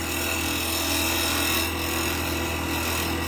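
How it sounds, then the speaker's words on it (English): The edge of a woodturning gouge scrapes a spalted beech box, giving a continuous, loud, close rasping hiss with no pauses. "Just here scraping it with the edge of the gouge"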